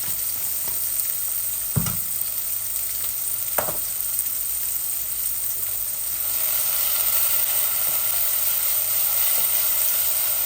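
Hilsa fish fries in a pan over low heat, a constant close sizzle and hiss broken by a couple of sharp clatters, growing slightly louder toward the end.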